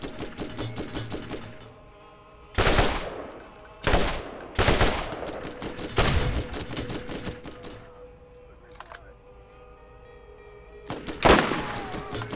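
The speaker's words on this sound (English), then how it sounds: "Who's shooting at me?" Gunfire in Borderlands comes as sharp bursts of rapid shots around three to five seconds and again near eleven, separated by quieter stretches of mechanical in-game ambience.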